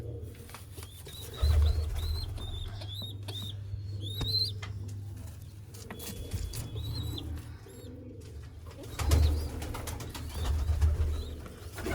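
Soft, low pigeon coos repeat in drawn-out phrases, with brief higher bird chirps and an occasional flutter, fairly quiet and nearby.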